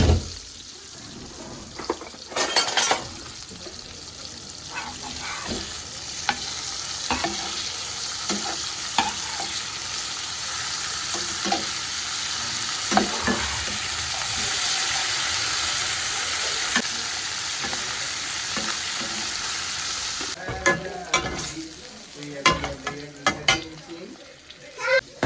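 Spiced fish fries in a pan with a steady, close sizzle through the whole stretch, broken by a few clatters and stirring scrapes near the start and again toward the end.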